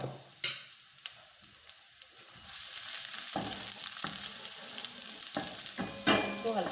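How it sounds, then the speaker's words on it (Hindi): Green onion and a tablespoon of chopped garlic hit hot oil in a pan, a few clatters and clinks giving way to a steady, bright sizzle broken by stirring scrapes, close by. "ऑयल अच्छा सा गर्म हो गया है। अब इसमें शामिल करूंगी ग्रीन वाली थोड़ी सी प्याज और 1 टेबलस्पून"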